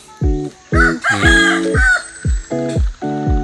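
Several loud, close chicken vocalizations in a village, repeated harsh crowing calls in quick succession with short gaps, rooster crowing alongside clucking fowl.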